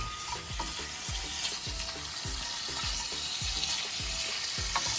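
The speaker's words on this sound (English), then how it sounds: "So you just put the bones in there and then fry it up a little bit." Chicken bones frying in butter in a pan for a home-style Indian chicken curry, a steady close sizzle with repeated stirring scrapes and clunks at a fairly even rhythm, no talking.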